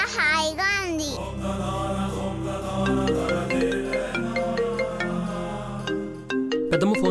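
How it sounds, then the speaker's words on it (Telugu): A phone rings with an incoming call, a bright melodic ringtone of repeating chiming notes, loud and close, with a voice briefly heard at the start and again at the end. "పెద్దమ్మ ఫోన్ చేస్తుంది"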